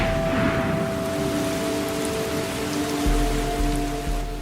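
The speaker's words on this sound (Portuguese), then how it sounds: "Cerca de 250 centímetros de chuva caem todos os anos." Steady tropical rain pours over the Amazon rainforest, a dense continuous hiss from start to finish, with a low rumble swelling near the end.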